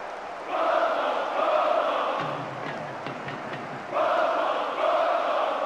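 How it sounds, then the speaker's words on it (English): Large record crowd at a football stadium roaring in a sustained, distant-sounding wash of cheering that dips briefly in the middle and swells again at the end. "A huge roar of approval from the record crowd today."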